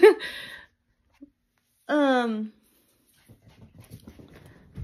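An excited dog with the zoomies lets out a couple of short whining yelps, close by, followed by quiet shuffling movement.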